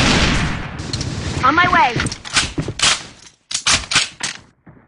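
Gunfire in the online shooter A.V.A, with sharp clustered bursts of rapid shots that start and stop. A brief voice speaks among the shots.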